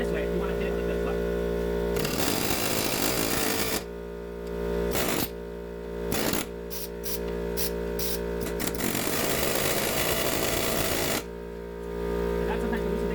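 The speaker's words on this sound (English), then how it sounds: "so now we're going to hit it with an air hammer." An air hammer rattles in loud, rapid bursts against a seized sleeve on a frozen shock bolt of a second-generation CR-V, starting and stopping repeatedly in short and longer runs, close by over a steady mechanical hum.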